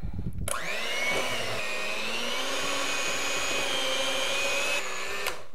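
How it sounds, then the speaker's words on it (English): An electric mixer whirs in a steady, close, high-pitched motor whine as it blends brownie frosting, starting and stopping sharply with no talk. "So now you're going to need your electric mixer or beater, and you are just going to blend this all together."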